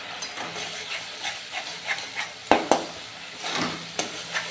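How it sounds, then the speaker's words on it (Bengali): Spices and kasuri methi being stir-fried in a pan for Bengali chhana dalna, giving a soft steady sizzle with scattered stirring scrapes and a couple of sharper knocks, and no talking. "এর সঙ্গে এটাকে ভালো করে আমি কষে নেব।"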